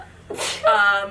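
A single close, sharp sneeze indoors, a quick intake followed by a burst of breathy air and a short voiced tail.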